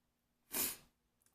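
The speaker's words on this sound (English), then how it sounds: "Sorry if I'm sniffling, I caught a cold." A single short nasal burst from someone with a cold and runny nose, an isolated sniff or snort lasting about a third of a second, close and fairly quiet, with a faint breath just after.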